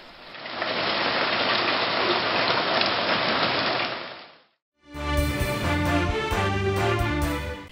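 Steady, dense rain pours down in a storm with strong wind, a loud continuous hiss for about four seconds before it cuts off and music begins.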